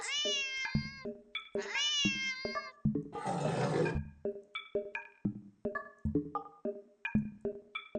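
A house cat reacts to a laser pointer dot on a shredded armchair with loud, drawn-out meows that give way to a string of short, sharp chirps and calls, plus a breathy hiss-like burst in the middle.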